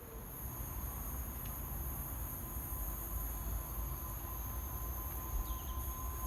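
An EWS train passes Derby Road station in Ipswich, a steady far-off rumble of rolling wagons with a faint high squeal and a thin ringing tone on top. It goes on evenly for several seconds with no voices.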